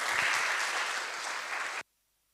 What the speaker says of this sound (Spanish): Vamos a recibirla con grandes aplausos.